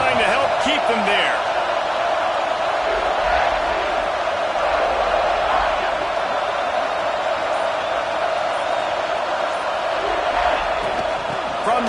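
A stadium crowd roars steadily in College Football 26, the video game, during Ole Miss versus South Carolina: a loud, dense wash of crowd noise runs throughout while a commentator talks over it.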